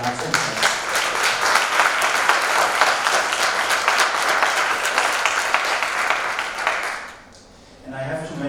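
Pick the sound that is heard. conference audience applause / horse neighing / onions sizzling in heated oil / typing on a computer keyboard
conference audience applause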